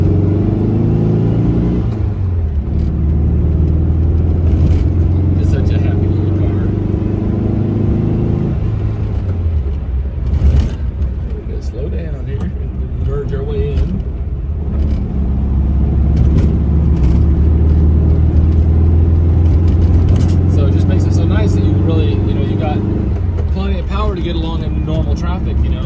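A 1964 Volkswagen Beetle drives and accelerates, its engine droning with steady harmonics that rise and fall through gear changes, loud and close from inside the car, with a person talking throughout.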